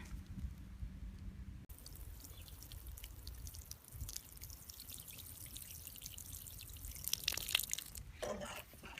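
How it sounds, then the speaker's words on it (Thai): A potted holy basil plant being watered: a steady close trickle and pour of water into soil that swells louder near the end before it stops. "แล้วเราก็จะ ลดน้ำค่ะ"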